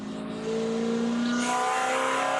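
A Spec Corvette race car's engine drones loudly on track at Daytona International Speedway, holding a steady high note and then shifting pitch as the driver briefly lifts the throttle, close and continuous with no voices.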